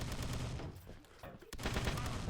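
An RPK light machine gun fires in Red Crucible 2 as sustained rattling bursts, quite faint overall, with a brief pause midway before another steady burst of rapid shots.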